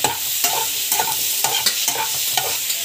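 Tomatoes sautéing in a pan, a continuous close sizzle broken by regular spatula scrapes about twice a second.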